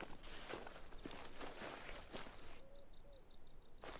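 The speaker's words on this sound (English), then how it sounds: "I thought a bison would sound like way heavier than that. Like that sounded like a lightweight deer walking." A bison walking in the video game Call of the Wild: soft, fairly light footsteps at a steady pace, with faint rhythmic insect-like chirping in the outdoor background.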